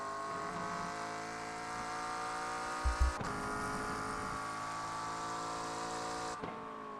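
GT3 race car in iRacing, its engine holding a continuous mid-level drone with a brief low thump near the middle and a short shift in tone toward the end, with no voices.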